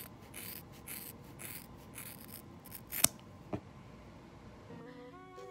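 Scissors snip through hair during a haircut after Japanese hair straightening, a series of close, crisp cuts with two sharp louder snips in the middle, heard alone without talking.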